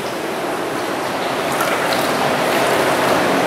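The Pochayna river in Nizhny Novgorod rushes through an underground brick collector, a loud, constant, enveloping roar of water echoing in the tunnel, with no voices.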